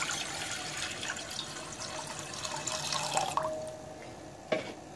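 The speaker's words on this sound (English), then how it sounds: "Start off with adding the water directly into the pot." Water runs steadily into a saucepan on a stovetop for vegetable stock, a continuous splashing pour with a brief clatter near the end, no talking.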